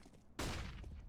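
A flashbang grenade goes off in Counter-Strike on the Vertigo map, a sudden loud burst that cuts in after a quiet moment and holds a harsh, ringing roar.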